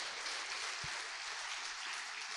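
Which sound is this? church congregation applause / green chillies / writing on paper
church congregation applause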